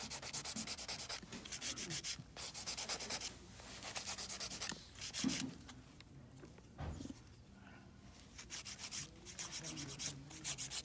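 Dip powder nails being filed and shaped at the edges and cuticle area, a steady near scraping rasp in repeated bursts with short pauses, no talk.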